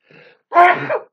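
A single loud sneeze from a person, preceded by a faint sharp inhale, close and alone with no talk.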